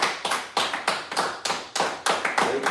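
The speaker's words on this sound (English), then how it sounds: "We want to give y'all a round of applause too." A small group gives a round of applause on a news show, with about ten quick, sharp bursts of clapping in an uneven rhythm, close and fairly loud, each one dying away fast.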